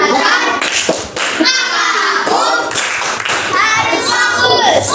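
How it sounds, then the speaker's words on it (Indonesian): Classroom of children doing a rhythmic "tepuk fokus" clap, bursts of group clapping in a patterned beat mixed with loud children's voices chanting and talking close by. "Tepuk fokus."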